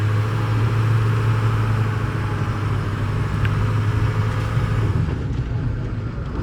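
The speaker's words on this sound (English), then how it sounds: "Yeah, you can hear that exhaust leak a little bit." Truck engine idling with a turbo exhaust leak, a steady low rumble and hum carrying a faint hissing, puffing edge, close and constant with no voices over it.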